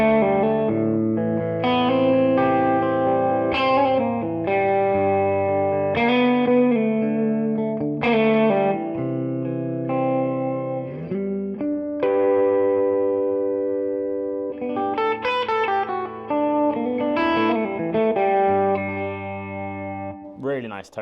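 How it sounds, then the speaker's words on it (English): A Teye La Perla Emperor electric guitar, played through the middle pickup position between its two humbuckers, rings out picked notes and chords with a rich, slightly effected tone and lingering sustain, close and alone. "Really nice tone in the middle there, very good for picking."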